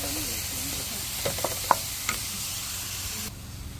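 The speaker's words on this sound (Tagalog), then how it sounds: "Gisahin muna natin yung pangsahog natin na ano, alamang." Fresh alamang shrimp paste sautéing in a pan, a steady loud sizzle with a few stirring scrapes and clinks, close and alone.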